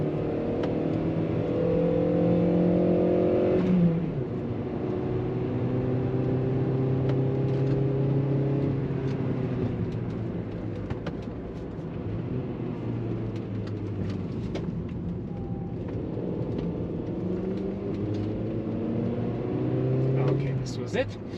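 An Audi A2 hatchback driven through a few turns, heard from inside as a steady engine drone whose pitch rises and falls with throttle and gear changes over about twenty seconds.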